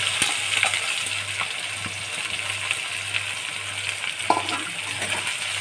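Onions fry in a pan of oil while a mutton curry is cooked, a steady sizzle broken by a few clinks and scrapes of stirring, close and fairly loud, with no one speaking.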